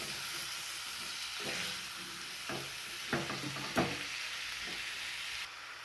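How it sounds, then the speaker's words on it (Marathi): Chopped mixed vegetables (carrot, capsicum, chili, onion, garlic and brinjal) being stirred in a hot pan, with a steady sizzle under several distinct scraping strokes of the spoon, close and fairly loud, with no talking. "आता हे आपण मिक्स करून घेऊया."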